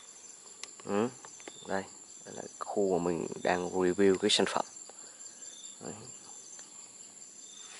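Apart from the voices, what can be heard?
crickets chirping outdoors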